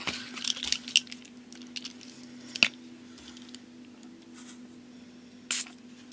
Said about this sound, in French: Numéro 52, c'est l'encre en spray. Donc c'est une encre marron.